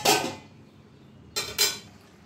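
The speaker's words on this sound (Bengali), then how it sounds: "কড়াইটা ঢাকা দিয়ে রাখছি।" A lid is set onto a kadai (wok) while chicken cooks: one metallic clatter first, then after a pause two quick clanks close together, loud and near with no talking.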